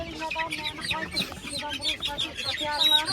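Chickens at an outdoor poultry market cluck and squawk in busy overlapping bursts, close and lively, with bits of voices mixed underneath.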